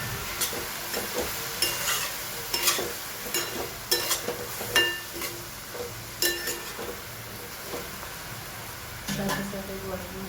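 Spices with cumin, red chili and salt frying in a pan, a soft steady sizzle under intermittent stirring scrapes and light clinks of a spoon against the pan, fairly quiet and close.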